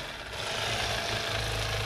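A cordless electric fillet knife whirs with a loud, steady buzzing motor drone while cutting a crappie fish, the blade's vibration holding constant and close throughout.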